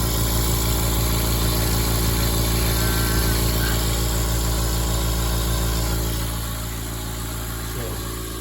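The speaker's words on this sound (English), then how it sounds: "I use this California Air Tool multi-ply air compressor." A California Air Tools air compressor runs with a steady, loud motor drone that holds constant before easing slightly toward the end.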